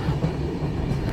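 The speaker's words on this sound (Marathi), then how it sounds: "एक्सप्रेस वाशिष्ठी नदीच्या पुलावरून चालली आहे" An express train crossing the Vashishti river bridge on the Konkan railway makes a brief, close, low rolling rumble, steady and unbroken.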